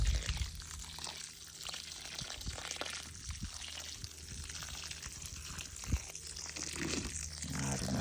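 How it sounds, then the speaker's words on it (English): Water from a garden hose without a sprayer, held low and moved slowly around plants, gives a soft, steady splashing and trickling onto soil. The sound is fairly faint throughout. "have a fancy sprayer on the end of this, so I just got my hose down low"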